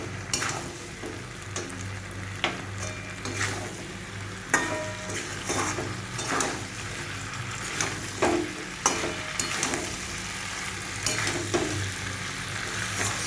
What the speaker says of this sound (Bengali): এবার আমি চিকেনটা এর মধ্যে দিয়ে দেবো, চিকেনটাকেও এর সাথে ভালো করে মিশিয়ে নেব।